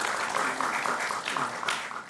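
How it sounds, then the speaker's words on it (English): Audience applause at a school quiz competition, moderate clapping with a faint voice or murmur running underneath, swelling slightly near the end. "A round of applause for them, please."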